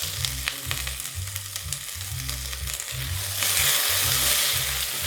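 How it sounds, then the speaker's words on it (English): Yellow and red peppers fry and sizzle in a pot of beef and vegetable fried rice, with a steady hiss that swells louder near the end and low, rhythmic rumbling underneath. "I'll go in with my yellow pepper and red pepper."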